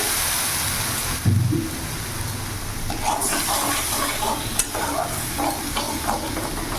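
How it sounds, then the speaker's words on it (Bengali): A splash of water goes into masala frying in a pan for rohu fish kalia, setting off a loud, steady, hissing sizzle, followed by stirring scrapes and small clinks. "সামান্য একটু জল অ্যাড করব যাতে মশলাটা পুড়ে না যায়।"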